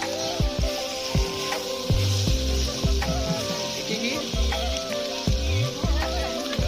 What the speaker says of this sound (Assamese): জলকীয়া ভাজি বনাই আছো এয়া